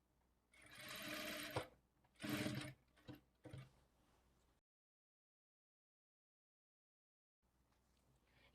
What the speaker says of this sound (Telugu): నేను ఇక్కడ నాడాలు అయితే స్టిచ్ చేస్తున్నానండి